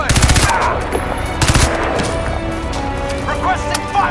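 Heavy automatic gunfire from the video game Crysis 2 Remastered: loud, dense bursts of machine-gun fire with sharp shots, rattling continuously over battle noise, with shouted voices among it.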